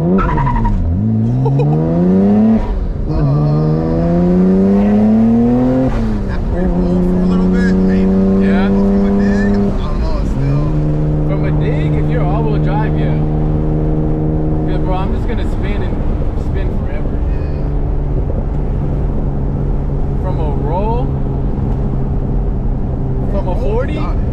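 A turbocharged car engine revs hard and close, its pitch climbing and settling through repeated pulls, with small backfire pops and turbo blow-off sneezes crackling between the revs.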